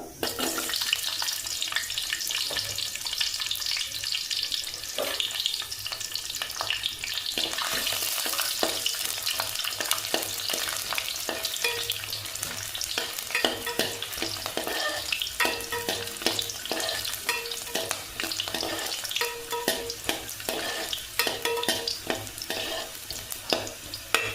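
Eight garlic cloves fry in a pan for mutton kulambu, giving a steady close sizzle with frequent spoon-scraping stirs throughout and no talking.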